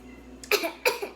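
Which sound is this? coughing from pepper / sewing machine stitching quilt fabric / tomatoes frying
coughing from pepper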